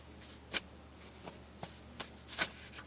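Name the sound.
shuffling tarot cards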